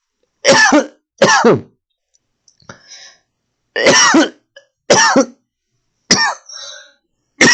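A series of sharp, close coughs in separate bursts, with short pauses between them and a bit of throat clearing.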